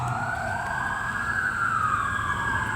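Police car sirens wail during a chase, with a loud continuous rising and falling tone that carries steadily throughout, joined by faint traffic rumble beneath.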